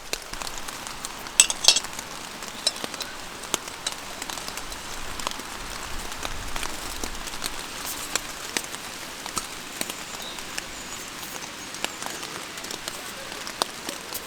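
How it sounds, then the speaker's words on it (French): Light, steady rain patters on a mountain campsite, a soft continuous hiss scattered with small drop taps, with no voices. "Il pleuviote un petit peu, tranquillement."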